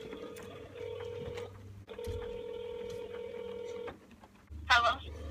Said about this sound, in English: All right, we about to call.